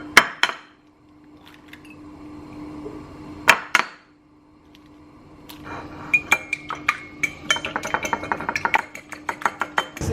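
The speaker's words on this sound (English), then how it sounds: "I'm going to crack 2 eggs in here and whisk it up." Two eggs whisked in a shallow bowl, a couple of sharp knocks first, then a rapid run of light metallic taps against the bowl that speeds into a steady rhythm, close, no talk.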